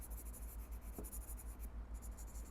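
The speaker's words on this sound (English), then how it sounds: "what I'm going to do here is make my marks larger, and I'm going to put less pressure with the pencil" Pencil making light, larger marks on paper during a drawing demonstration, a faint scratchy stroke sound repeating in a soft rhythm, quiet and close, with no voices.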